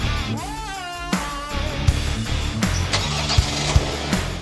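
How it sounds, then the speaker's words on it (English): Kia Sonet X-Line 2024 engine starting, a short rising starter whine that catches into a steady idle, with chimes and a few clicks around it. "So I'll just start the engine."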